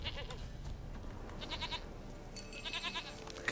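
A goat bleats repeatedly in The Witcher 3: Wild Hunt, the quavering calls fairly close over game ambience, louder toward the end.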